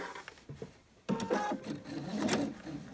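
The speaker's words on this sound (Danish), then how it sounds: "Så syr jeg midt imellem min rynketråd" A sewing machine stitches between gathering threads on a frilled dress, a short burst of stitching at the start, a pause, then a louder steady run of rapid mechanical whirring.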